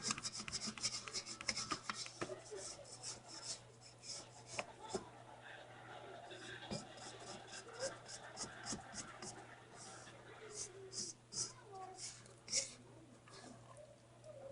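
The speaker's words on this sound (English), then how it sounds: "scrape down the bowl." A spatula scraping down a bowl of thick cupcake batter made with sour cream, quiet repeated rubbing and scratching strokes close by, with a low steady hum in the background.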